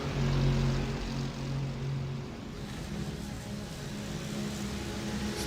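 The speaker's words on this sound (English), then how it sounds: "Listening to the sounds of these GT3 cars echoing off the trees of the Ardennes forest here" GT3 race cars in the iRacing sim at Spa-Francorchamps in the Ardennes forest, a steady engine drone with tonal harmonics holding throughout, moderately loud with no talk.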